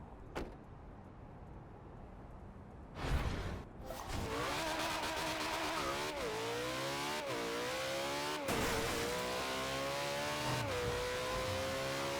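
A McLaren F1 supercar in the racing game Forza Horizon 2 revs hard and accelerates, its engine note climbing through repeated gear shifts in a loud, continuous roar with brief breaks between pulls.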